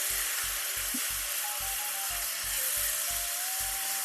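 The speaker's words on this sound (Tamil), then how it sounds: "சேர்த்து கை விடாம மிதமான தீயில வச்சு நல்லா வறுத்து எடுத்துக்கலாம்" Grated coconut roasting in a pan over a medium flame gives a steady, close sizzle with regular scraping strokes of stirring running through it. No one talks.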